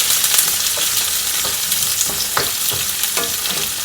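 Curry leaves, green chilies and onions fry together in hot oil for a potato fry, a loud continuous sizzle broken by occasional clinks and scrapes of stirring, with no talking.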